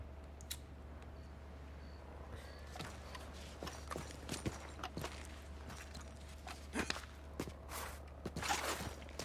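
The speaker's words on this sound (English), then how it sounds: "Horsey!" Horse hooves clip-clop in Red Dead Redemption 2, a steady walking rhythm of soft, fairly faint thuds over a constant low hum, with no talking.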